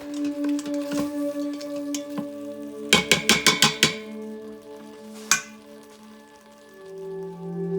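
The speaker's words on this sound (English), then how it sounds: "Now add the heavy cream. Stir that up." Heavy cream being stirred into matar paneer in an Instant Pot: a quick run of six or so sharp spoon taps against the inner pot, then one more knock, over a steady humming drone and soft background sizzle.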